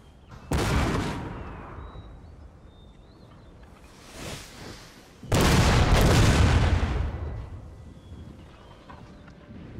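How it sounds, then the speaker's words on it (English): Cannon artillery fire in Napoleon Total War: two heavy booming volleys, the second longer and louder, with a smaller distant report between them, all ringing out with rumbling tails. "we'll get these cannons to open up with everything we got"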